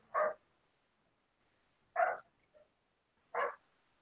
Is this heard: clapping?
no